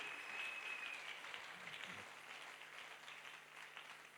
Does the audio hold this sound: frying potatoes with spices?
no